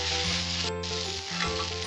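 Spice paste with garam masala and tomato puree fries in a pan while being stirred, a loud, dense sizzle with a short scrape partway through, close and continuous with no voices.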